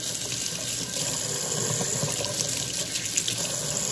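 Tap water runs steadily into a kitchen sink while a hand is rinsed during spaghetti prep, a close, continuous hiss and splatter lasting several seconds with no talk.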